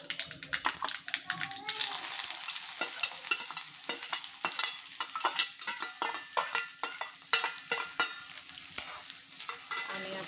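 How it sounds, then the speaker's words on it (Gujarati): Onions sizzling with cumin and mustard seeds in hot oil in a pan, a busy crackle broken by repeated spoon scrapes and stirring clinks, with a voice briefly audible in the background. "પછી આપણે આની અંદર ડુંગળી એડ કરીશું।"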